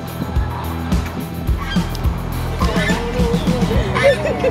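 A swan goose honks repeatedly amid a flock of fowl near the water, with harsh calls overlapping in a busy, chaotic mix and a voice talking faintly in the background.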